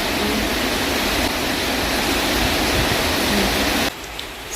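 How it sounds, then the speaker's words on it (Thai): Heavy rain pounds down loudly outdoors on a rainy morning, a dense constant roar that fills nearly the whole stretch before dropping away abruptly near the end. "จะบอกว่าฝนตกดังมากนะคะ แรงมากด้วยเนาะ"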